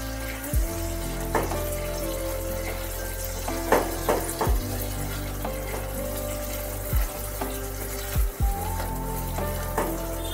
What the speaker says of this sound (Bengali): সর্ষে আর কাজু আর লঙ্কা বাটার মিশ্রণটা। ভালোভাবে একটু তেলের সাথে কষিয়ে নিতে হবে।